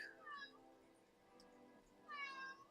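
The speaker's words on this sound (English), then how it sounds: "Small interruption by my cat." A house cat meows twice, two drawn-out, rising-and-falling cries a couple of seconds apart, close and fairly clear against a quiet room.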